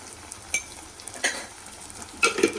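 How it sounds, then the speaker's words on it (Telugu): Spices for kushka biryani are stirred in a hot pan over a low sizzle, with a few sharp scrapes and clinks of a spoon against the pan in quick irregular bursts, close up and without talk. "ఇవన్నీ సిమ్లో ఉంచుకొని బాగా ఫ్రై చేసుకోవాలి ఓకే అండి మిక్స్ చేద్దాం"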